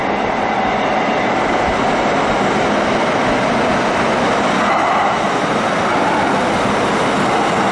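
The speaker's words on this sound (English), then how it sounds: "There's the train coming in now." Packed light-rail train pulling into an underground tunnel station in downtown Portland, Oregon, a loud steady rumble and roar of wheels and motors filling the space without pause.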